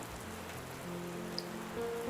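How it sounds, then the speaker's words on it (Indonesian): Steady heavy rain falls in a dense, even hiss, faint and close, with no voices over it. "Hujan turun cukup lebat."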